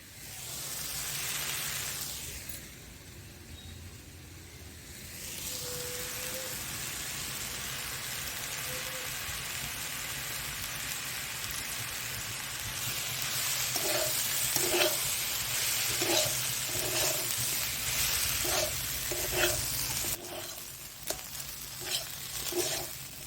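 Chopped banana flower sautés in a pan with salt, turmeric and ground spices, a steady sizzle with occasional stirring scrapes and a run of rhythmic tapping clinks near the end, no voices.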